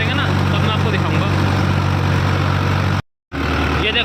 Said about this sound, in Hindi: ये देखो जी दूसरी बार में ट्रैक्टर कितने RPM ड्रॉप कर रहा, 1600 RPM है।